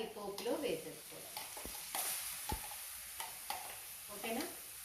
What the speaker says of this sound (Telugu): ఈ గ్రైండ్ చేసి పెట్టుకున్న కాకరకాయను కూడా ఈ పోపులో వేసేసుకోవాలి